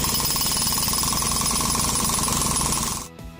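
A jackhammer pounds away loud and close in a steady, unbroken rapid hammering, then cuts off abruptly near the end, leaving a brief quieter tail.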